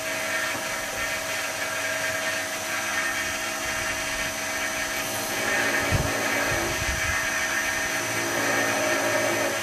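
A knife blade is held against a running abrasive grinder, producing a continuous harsh whirring hiss that holds steady and close, with a brief heavier scrape midway.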